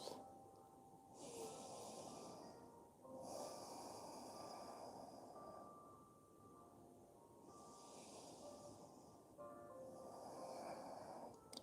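Slow, deep yoga breathing, long airy inhales and exhales alternating in a steady rhythm, close and fairly loud, with no talking over it.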